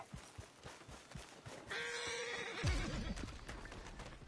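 A horse in Red Dead Redemption II whinnies loudly, its shrill neigh trailing off into a lower snort, with faint hoof clatter before it.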